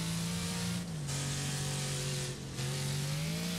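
Rammer car engine in the Wreckfest racing game revving hard and steadily, holding a loud, sustained drone with two brief dips in pitch as it shifts or eases off, no voices.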